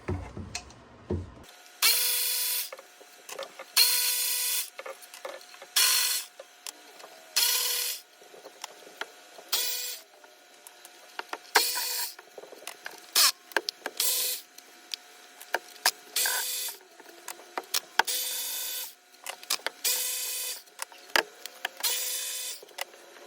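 A hand ratchet removes the 12mm bolts holding the upper intake manifold on a Hyundai Tucson V6. Many quick bursts of close, loud clicking come in irregular runs with short pauses between them.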